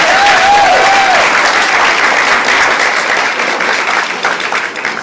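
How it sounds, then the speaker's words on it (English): An audience gives a loud, sustained round of applause for a stepfather at a Hispanic Heritage Month event, dense clapping that slowly thins toward the end. "Give him a big round of applause."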